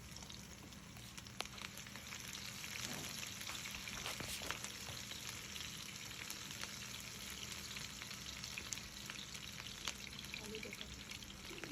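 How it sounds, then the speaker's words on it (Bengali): Chopped onion frying in hot oil with whole spices such as black peppercorns, a steady soft sizzle running throughout with occasional stirring clicks, fairly quiet and close. "ভাজা হয়ে গেলে এখানে আমরা দিচ্ছি 1/2 কাপ পেঁয়াজ কুচি"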